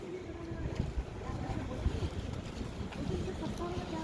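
Cold morning wind rushes and buffets during a tram ride in Switzerland, a steady blustery roar with low thumps, and voices can be heard faintly beneath it.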